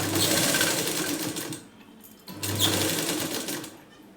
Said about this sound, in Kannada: ಈ ಥರ ಸ್ಟಿಚಿಂಗನ್ನು ಮಾಡ್ಕೊಳ್ಳಿ